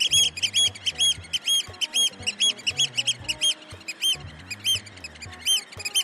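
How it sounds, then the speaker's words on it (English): A seagull gives a quick series of repeated sharp calls in an irregular rhythm, moderately loud and clear, with nothing else heard. "That's the sound of seagull."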